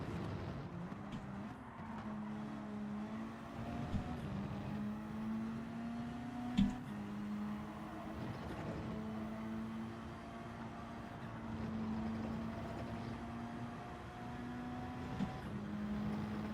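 Race car engine in a racing video game drones steadily with rising and falling pitch as gears shift, quiet and continuous, with a single sharp click partway through.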